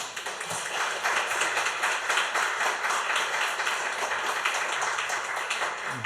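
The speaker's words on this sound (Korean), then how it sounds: "나오실 때 크게 박수로 환영하겠습니다" A church congregation at a Sunday morning worship service claps in welcome for a visiting preacher, a dense, even patter of applause that runs on steadily for several seconds at moderate volume.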